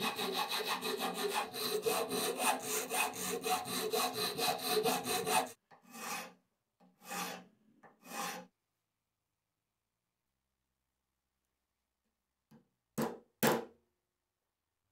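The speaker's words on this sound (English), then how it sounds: "like a coping saw to cut out the aluminum" Steady rasping coping saw strokes cut aluminum continuously for several seconds, then stop; a few short separate scraping bursts follow, with quiet gaps between them.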